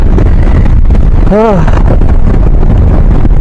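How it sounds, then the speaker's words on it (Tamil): Strong cold wind buffeting a motorbike rider on a mountain road, a loud constant roar of wind noise against the microphone, with a brief spoken voice cutting through midway. "காற்று மூஞ்சிக்கு பயங்கரமாக அடிக்குது"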